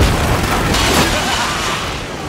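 A grenade gun blast in the Warhammer 40,000: Darktide video game, a loud, dense boom with a rumbling, crackling tail that fills the whole moment without pause.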